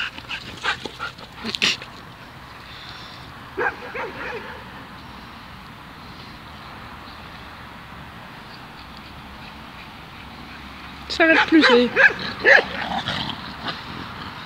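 A dog barks and whimpers in short bursts at the start and again more intensely near the end, with a quiet stretch in between and a brief spoken phrase.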